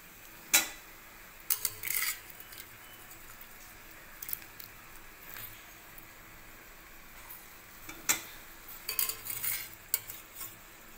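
A cauliflower tomato curry being stirred in a pan: quiet background sizzle broken by intermittent clinks and scrapes of a spoon against the metal, in short clusters.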